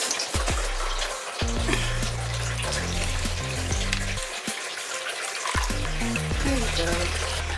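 Water running and splashing at home while filling bowls for pets, a continuous bright stream with hollow clinks and knocks of the container, fairly close and steady.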